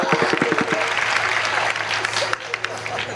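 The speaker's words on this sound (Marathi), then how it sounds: "वाजवा, टाळ्या वाजवा, टाळ्या वाजवा." An audience at a Dnyaneshwari recitation closing ceremony in Selu, Parbhani, breaks into sustained crowd applause that continues steadily throughout, while a voice speaks over the clapping.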